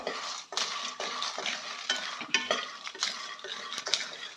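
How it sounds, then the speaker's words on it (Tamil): Peanuts and chillies dry-roast in a pan for a spicy peanut chutney powder, stirred in a steady rhythm of scraping strokes and light rattles, close and moderately quiet. "நல்லா வறுத்துக்கலாங்க இதோடைய கொஞ்சம் மிளகாயும் போட்டு வறுத்துக்கலாம்"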